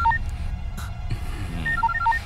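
A phone number dialed on a keypad, short electronic tones in quick irregular bursts with a faint breath or murmur between them.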